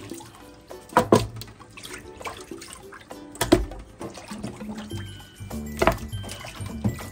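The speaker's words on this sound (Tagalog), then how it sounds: "Hugasan natin yung ating chicken." Raw chicken being washed under a running kitchen tap, with water splashing in bursts and handling clatter in a sink, fairly quiet and close.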